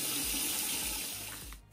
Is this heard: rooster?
no